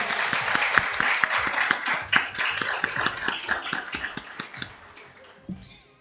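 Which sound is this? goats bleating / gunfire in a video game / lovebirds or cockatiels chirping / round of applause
round of applause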